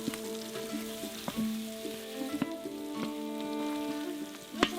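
Lamb butt fat melting in a pan gives a steady, close crackling sizzle with scattered sharp pops throughout, a continuous bubbling hiss with no talk.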